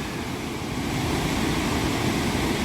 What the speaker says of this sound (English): This is the Devil's Cataract, right at the beginning of the waterfalls in Victoria Falls